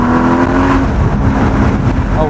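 Porsche GT4 engine roaring loudly and steadily as the car climbs a mountain pass, a sustained close-up drone with a voice speaking over it.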